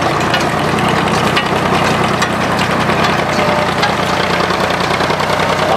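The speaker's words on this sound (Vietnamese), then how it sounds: "Đi theo máy cày cuốn rơm" A John Deere 4610 tractor engine runs loud and steady while baling straw in a rice field, a continuous close-up rumble with rhythmic knocking and no pauses.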